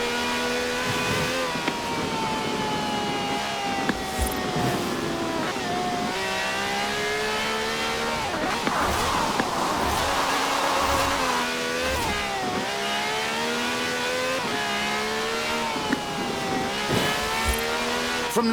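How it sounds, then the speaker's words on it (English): V12 engine of over 750 horsepower revving in Forza Horizon 4, a continuous loud roar with rising and falling pitch through repeated gear changes and accelerations, near and steady throughout. "This has a V12 with over 750 horsepower, plus bucket seats."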